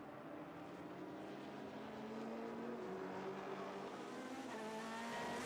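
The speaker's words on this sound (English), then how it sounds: "He overtakes Mark Goossens in the Porsche on the straight" Onboard a race car in a Dutch Supercars event at Zolder, the engine drones loud and continuous with a rising pitch as it accelerates along the straight, alone without talk.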